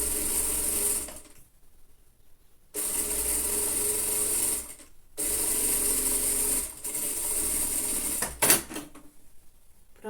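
A sewing machine stitches fabric for a lined child's coat in steady buzzing runs, stopping and restarting several times with brief gaps, close and loud, followed by a short mechanical clatter near the end.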